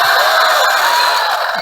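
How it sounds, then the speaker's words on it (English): Studio audience breaks into applause and cheering for a guest former Rams cheerleader at an interview show, a steady loud roar of clapping and whoops filling the short moment. "You get your own applause"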